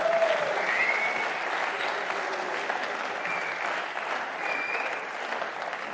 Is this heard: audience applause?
yes